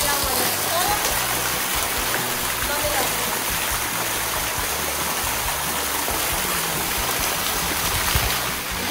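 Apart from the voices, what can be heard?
flowing water at a mountain pool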